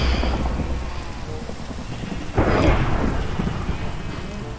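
Steady rain falls in a Minecraft world while a sharp thunderclap from lightning crashes about halfway through, its rumble rolling on under the continuing downpour; no one speaks.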